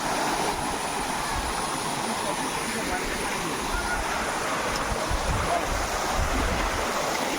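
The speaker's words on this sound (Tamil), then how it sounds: "இந்த கேப்பில் வந்து தண்ணி வருது" Waterfall at Megamalai pouring through a gap in the rocks, a steady loud broadband rush of water close by, continuous throughout with some wind buffeting.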